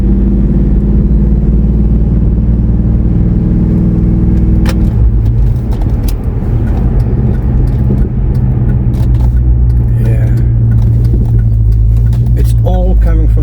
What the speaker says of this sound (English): Yeah, that engine is vibrating,